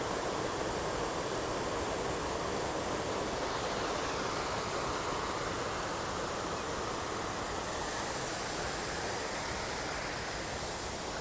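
A steady, broad rush of falling water from a waterfall at Oakley Creek in Auckland, heard from a viewing platform, continuous and even with no voices.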